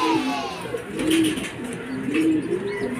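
Young racing pigeons landing at a derby loft during a first-lap race arrival, their soft repeated cooing close and continuous with no talk over it.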